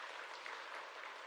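A church congregation applauds its elderly members during a Sunday service, a faint, distant and even wash of clapping that lasts only a moment.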